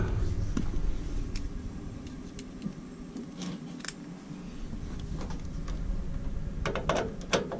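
Tightening a loose Y1/W wire terminal inside a Lennox AC unit produces irregular metallic ratcheting and tool clicks over a steady low hum, close and moderately loud.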